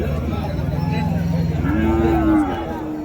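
A native cow at the Uthangarai Friday cattle market lets out one long, low moo that rises out of a constant rumble of market background noise.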